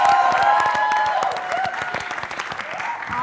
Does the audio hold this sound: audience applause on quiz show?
yes